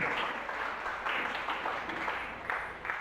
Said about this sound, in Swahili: Piga makofi kwa jina neno la Mungu